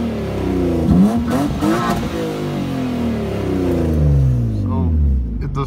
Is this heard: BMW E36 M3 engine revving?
yes